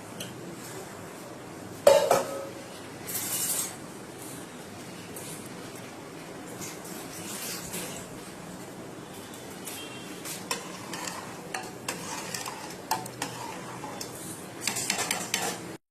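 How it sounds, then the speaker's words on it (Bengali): A spoon stirs rice for biryani in a cooking pot, making scraping, rustling strokes with metallic clinks over a faint sizzle, busier near the start and end. "এখন একবার নেড়ে দিতে হবে, প্রথম দিলাম চালটা তো, নাহলে নিচে দলা পেকে যাবে।"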